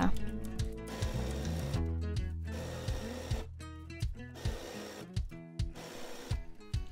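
A sewing machine stitching around the hem of a skort leg, giving a steady mechanical whir with rhythmic needle clatter that slows into separate thumps toward the end, heard up close.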